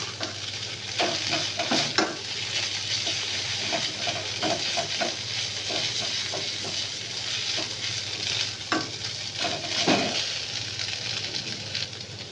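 Maggi noodles frying with egg and the Maggi spice mix, stirred steadily in a pan; a constant close sizzle runs throughout, broken by regular scraping strokes and occasional louder clinks.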